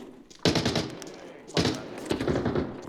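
Two bursts of rapid G3 rifle fire in a video game (Arena Breakout Infinite), loud and close, with the shots rattling quickly one after another and a brief pause between the bursts.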